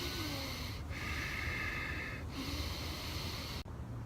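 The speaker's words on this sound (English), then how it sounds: "You know that breathing exercise that sounds like an obscene phone call when you're in a yoga class?" Ujjayi breathing from a pranayama practice: slow, audible breaths with a soft constricted-throat rasp, two long cycles separated by short pauses, close and quiet, with no talking.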